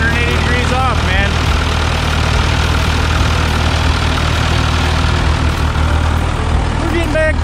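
A log skidder's diesel engine, just repaired after its injector was set 180 degrees off, runs steadily at a loud, low idle for several seconds, with voices calling out over it.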